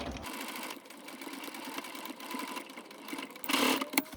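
A domestic sewing machine stitches a seam down the centre front of a fifties-style halter-neck dress, a continuous close whirring hum with small shifts in pace, rising briefly near the end before stopping.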